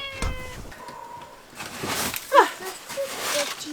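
Outdoors in the snow near a greenhouse, a cat gives a few short, close meows mixed with rustling and movement, and a person speaks briefly over them.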